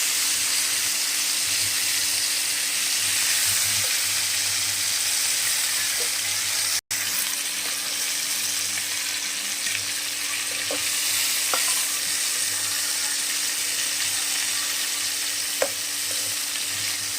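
Cauliflower florets fry in a pan of oil for a Bengali fish curry, giving a steady, loud, continuous sizzle and hiss throughout, with a few faint clicks along the way.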